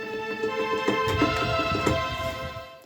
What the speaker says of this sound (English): And I layer that with a string sound that sounds like this.